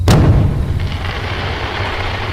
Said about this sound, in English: About halfway there, the first fireworks went off.